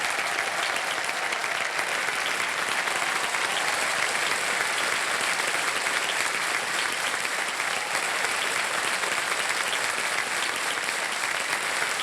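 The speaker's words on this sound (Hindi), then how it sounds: "तालियां बज जाएं इनके लिए।" Studio audience on the KBC quiz show applauding a contestant who has won a cheque; loud, dense and continuous clapping filling the whole stretch, steady from start to finish with no voices over it.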